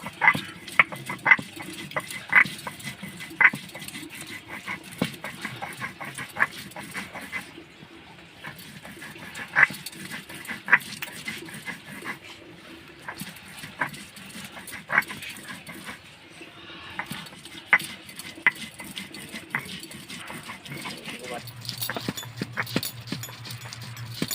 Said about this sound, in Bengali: এইভাবে অল্প অল্প করে খোসাগুলোকে আমি বেটে নেব।